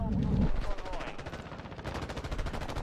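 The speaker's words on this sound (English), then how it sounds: "that was a pretty good sniper shot" A sniper rifle shot in Call of Duty Modern Warfare 2 multiplayer, a sharp loud report near the start followed by a ringing, fluttering tail and dense game noise, with brief voice sounds over it.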